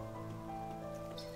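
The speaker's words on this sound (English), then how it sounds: "Oh, it's the gorgeous rainy day again." Steady rain ambience from the video game Night in the Woods, a continuous soft patter on surfaces running evenly throughout, with a gentle looping musical drone beneath and no talking.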